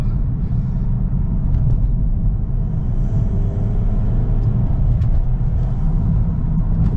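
A VW Golf Alltrack mk7 accelerating in third gear, heard as a steady loud low engine rumble with road noise from inside the car, constant and unbroken.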